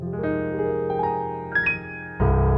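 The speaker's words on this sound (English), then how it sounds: "but you also have a German Grand" Sustained chords from a German grand piano virtual instrument in Arturia Piano V3, dark and mellow in tone, ring out alone, a few higher notes added, then a fuller chord struck near the end.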